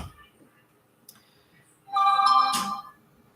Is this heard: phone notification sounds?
yes